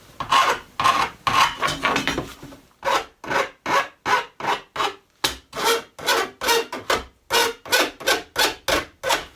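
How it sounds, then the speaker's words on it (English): Metal file cleaning the burr off a cut stainless steel tile profile, a quick rapid flurry of rasping followed by a long run of even, rhythmic back-and-forth strokes, close and loud. "Once again, take our file."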